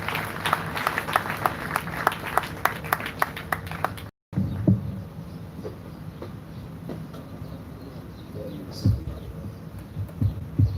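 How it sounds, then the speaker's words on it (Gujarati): A youth conference audience applauds a speaker called to the front, steady clapping that breaks off and then continues more faintly with scattered claps. "આપણે તેમને જોરદાર તાળીઓથી વધાવી લઈશું."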